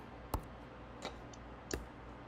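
Keyboard typing during a live online auction stream: three sparse, distinct clicks spaced apart, quiet and close, with no talk.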